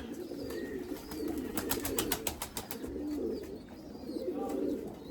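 White breeding pigeons coo in soft, repeated low calls, close by and steady across the whole stretch, with faint chirps and a brief rapid tapping mixed in.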